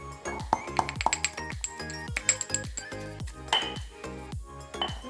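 Hard black peppercorns dropped and poured into a mortar, giving a rapid scatter of small bright clinks and pings that rattle irregularly for several seconds.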